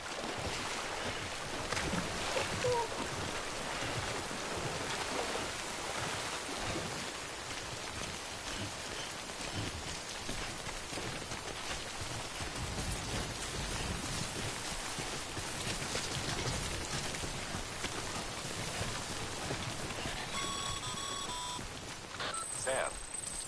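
Steady hiss of timefall rain in the video game Death Stranding, a continuous dense wash of falling drops and wind throughout, with a few faint tonal game sounds near the end.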